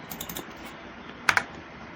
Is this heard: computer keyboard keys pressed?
yes